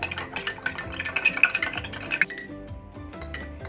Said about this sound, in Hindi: इसको हमने सबसे पहले अच्छी तरह से मिक्स करना है।